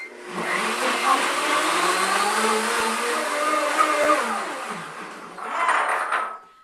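A blender motor whirs steadily for several seconds, its pitch shifting slightly as contents churn, then briefly surges louder near the end.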